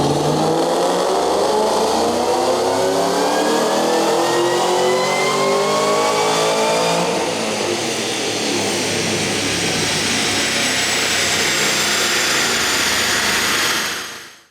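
A 2013 Shelby GT500 on a chassis dyno roars loudly as its engine revs steadily up through the gears, climbing in pitch for about seven seconds, then holding a sustained high-rpm wail before cutting off abruptly at the end.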